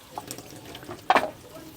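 Water runs from a tap as hands wash at a sink in a provincial house, with a short louder splash midway against a quiet background.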